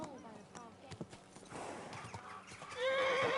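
A horse in the medieval game Kingdom Come: Deliverance 2 clip-clops along, then lets out a loud, rising whinny near the end, while someone talks over the hoofbeats.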